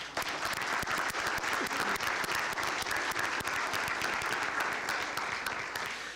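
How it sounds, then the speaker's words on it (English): An audience applauds, a dense steady patter of many hands clapping throughout, moderately loud and evenly sustained, easing slightly at the close. "Let's give them a round of applause."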